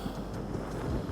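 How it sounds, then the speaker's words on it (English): Strong wind on a ridge buffets the microphone in a continuous loud, low roar with uneven gusting pulses and no voices. "it is super windy right now"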